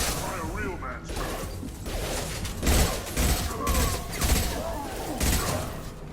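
Gunfire bursts in the video game Mass Effect 2, with repeated thumping shots and crashes in uneven bursts over busy combat noise, and voices speaking in the middle of the fight.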